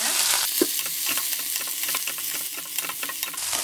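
A medium piece of crushed ginger and six crushed garlic cloves fry in hot coconut oil, giving a loud, continuous close-up sizzle with light stirring scrapes and no voices.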